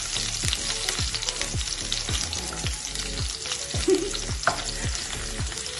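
Roughly chopped onions fry and sizzle in hot oil in a pan for a mutter masala, with a steady crackle and repeated scraping stirs at a close distance and no talking.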